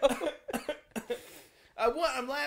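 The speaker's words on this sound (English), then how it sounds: "I'm laughing, coughing." A person coughs repeatedly amid laughter on a casual podcast, several sharp bursts in quick succession, close and loud, running into voiced laughing.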